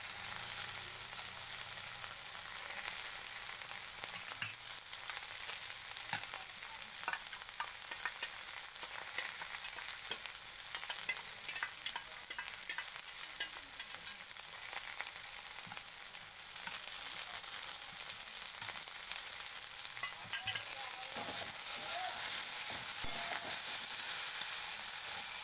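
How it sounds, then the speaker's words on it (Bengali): Mustard spice paste fries in a pan on a gas stove, giving a steady, fine sizzle with occasional crackles for a long stretch, close and alone without any voices. "দেখো সুন্দর ভাজা হয়ে গেছে"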